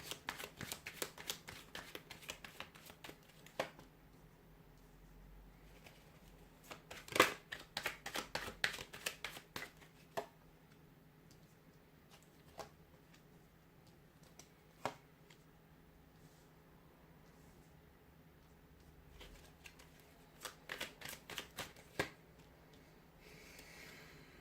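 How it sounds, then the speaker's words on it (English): Quiet bursts of tarot cards being shuffled, in short riffling flurries separated by long near-silent pauses. "We'll give the cards a shuffle"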